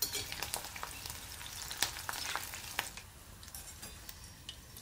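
Green chillies fry in hot oil in a kadhai, a soft, steady sizzle broken by scattered sharp crackles and pops, close and alone without any voices.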